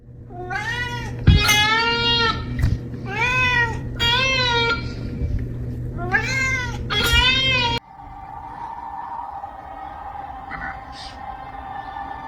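A cat meows loudly and repeatedly, five or six drawn-out, wavering cries in quick succession, then falls quiet into a low hum with faint voices.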